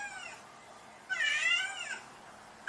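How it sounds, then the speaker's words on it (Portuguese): A kitten meows twice up close, a short faint cry followed by a longer, louder plaintive one, with a quiet background. "Esse gatinho aí mesmo tá pedindo o quê? O seu lanche!"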